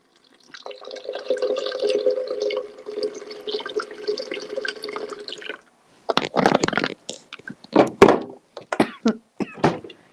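Almond milk poured into a pot, a steady liquid stream running for several seconds, followed by a series of separate drips, splashes and small knocks at close range.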